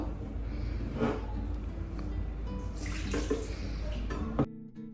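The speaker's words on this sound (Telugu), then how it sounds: "చల్లనీళ్ళు పోసి కలుపుకోవాలి కొంచెం కొంచెం పోసి కలుపుకోవాలి" Cold water poured gradually into flour while mixing dough at home for Sankranti sweets, a steady close splashing trickle running for several seconds before stopping abruptly.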